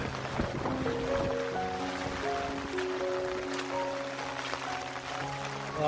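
A waterfall pours during a heavy thunderstorm with rain in Dadyal, Azad Kashmir, making a steady, loud, broadband rushing roar that never lets up, with sustained tonal drones layered over it.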